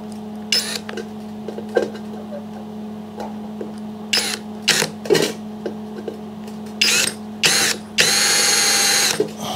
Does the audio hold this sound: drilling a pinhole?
yes